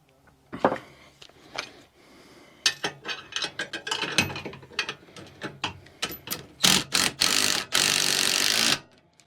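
A ratchet turning a deep-well spark plug socket on an Arctic Cat Ramrod frame, giving dense bursts of rapid clicking with a few longer continuous runs, close and loud.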